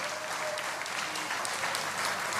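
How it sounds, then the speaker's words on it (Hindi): Dense, steady applause from a large audience clapping along at a spiritual discourse, continuous and fairly even throughout with no voices standing out. "आ रहा है तो ताली बजाओ"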